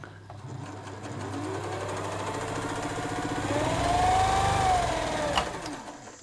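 A Bernina 117L sewing machine stitches at close range, its motor whirring steadily with a slight rise in speed partway through, alone with no talk.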